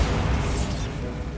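A Bombarda blasting spell in Hogwarts Legacy lands as a short, loud, bassy explosion with a brief bright crackle, decaying within about a second.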